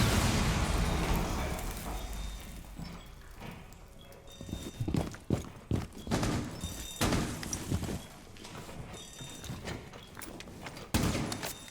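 A nitro cell detonates in Rainbow Six Siege, sharp explosive bursts and crackling gunfire-like hits striking in uneven clusters over game ambience and footsteps.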